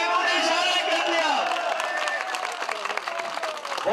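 An audience at a birthday celebration event in Gilgit claps and cheers in a dense, continuous burst of applause that stays loud throughout, with crowd voices mixed in.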